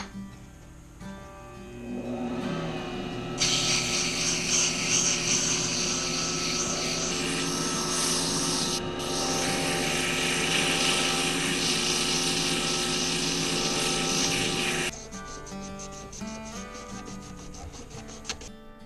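A slimline pen spins on a lathe while it is sanded with 240-grit paper. A steady motor hum sits under a loud, continuous rushing hiss that lasts about twelve seconds and then drops back to the motor alone.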